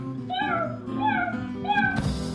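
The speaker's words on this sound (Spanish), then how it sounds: "O toma miau." A cat gives three drawn-out, rising-and-falling meows close to the microphone, followed by a brief noisy burst.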